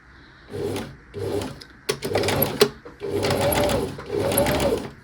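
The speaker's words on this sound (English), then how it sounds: "Right, let's take it to the machine. It's time to quilt along these quilt lines." A domestic sewing machine quilts along marked lines on a layered hydrangea fabric piece, running in several short bursts of steady stitching with brief pauses between, close and clear.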